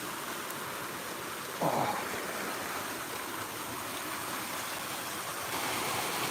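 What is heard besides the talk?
small waterfall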